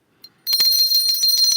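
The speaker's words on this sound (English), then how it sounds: "Ringing my Liberty Bell." A small Liberty Bell replica, cracked like the original, struck after a brief faint tap, ringing out with a bright, sustained metallic tone and rapid repeated clangs, close and fairly loud.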